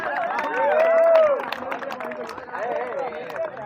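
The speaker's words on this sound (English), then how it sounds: "Still you have to clap for the runner-ups." Clapping from an audience at a prize distribution ceremony, honouring the runner-up team, with cheering voices and chatter mixed into a steady, moderately loud patter.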